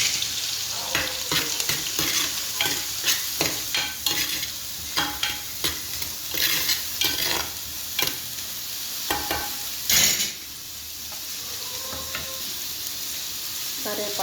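Onion and green chillies fry with cinnamon, cloves and cardamom for khichdi, a constant bright sizzle broken by frequent spoon-stirring scrapes and clacks, easing to a quieter hiss after a sharp knock near the end.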